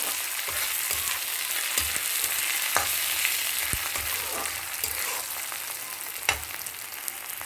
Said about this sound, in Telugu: ఉల్లిపాయ కూడా వేగుతుంది